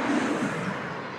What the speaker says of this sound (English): you can hear the cars coming quite fast